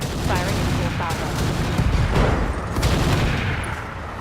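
Weapons fire in the mech game RogueTech, a steady barrage of dense overlapping shots and booms rolling continuously at full volume, with murmured voices faintly underneath.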